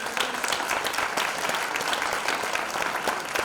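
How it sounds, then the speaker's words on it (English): An audience applauds veterans in the room, a dense, continuous round of clapping from many hands, close and steady throughout with no speech over it. "Give them a round of applause for this."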